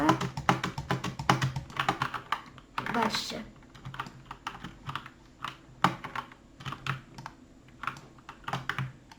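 Someone types rapidly on a computer keyboard in quick bursts of close, clicky keystrokes with short pauses between them, while a voice speaks briefly.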